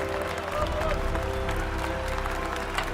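A large hockey arena crowd roars with steady cheering and applause, a dense continuous wash of many voices and clapping that holds at an even level throughout.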